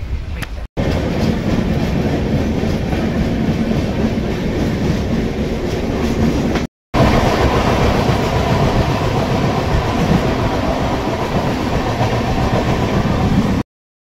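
A long-distance passenger train rolling steadily after departing Mumbai Central, loud continuous rumble and rhythmic wheel clatter heard from inside the carriage, broken by two brief gaps.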